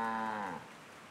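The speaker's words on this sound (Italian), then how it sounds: "Sembra quasi che sia solo una mucca." A cow moos in a cartoon, one long, close, loud low call that fades out.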